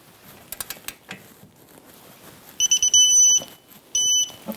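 Digital torque wrench on a Jeep Renegade rear strut bolt, set to 74 foot-pounds: light ratchet clicks, then a series of rapid high electronic beeps and a second longer beep, close and clear with no talking.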